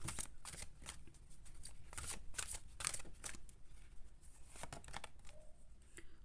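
Tarot cards are shuffled close by in quick, soft riffling and snapping bursts, fairly quiet and with no talking over them.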